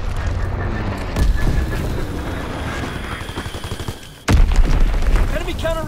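Call of Duty WWII battle scene with rapid gunfire bursts, then a sudden heavy enemy bomb explosion with a deep boom, followed by more shots and rumble; a voice talks faintly in the mix.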